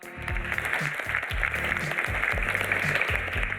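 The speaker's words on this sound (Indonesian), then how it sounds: "boleh tepuk tangan buat kita semua" A crowd claps steadily and continuously, a dense wash of many hands applauding at close range with no voices standing out.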